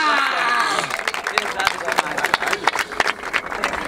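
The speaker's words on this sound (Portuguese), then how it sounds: "Palmas pra essa batalha!" A crowd at a rap battle in Barueri claps and cheers after the round, dense overlapping applause and shouting over a loud, continuing voice on the mic.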